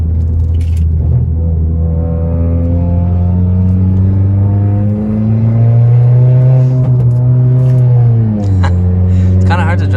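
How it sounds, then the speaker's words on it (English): A 2018 Honda Accord Sport with a manual gearbox drones loudly from its exhaust while accelerating onto a highway, a deep, steady hum rising in pitch, dipping briefly at each gear change, then climbing again. "Hope you can hear me over the droning exhaust"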